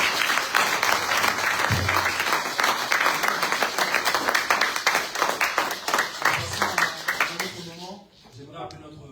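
A church congregation applauds through a Sunday service led by the youth, with dense sustained clapping that tapers off near the end as a voice begins speaking.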